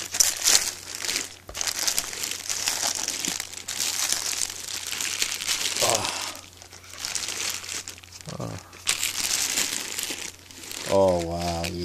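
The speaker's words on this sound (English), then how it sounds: "Let me get some of the plastic off of this thing." Plastic packaging crinkled and pulled off a new toy, loud close crackling and rustling that continues throughout, with a person speaking at moments.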